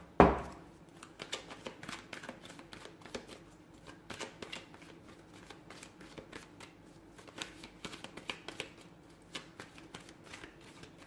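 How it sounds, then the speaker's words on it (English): Tarot cards being shuffled by hand, a sharp riffle at the start followed by repeated soft, papery flicks and slides in an irregular rhythm, close and quiet with no talking. "let's go ahead and give the cards a shuffle and begin."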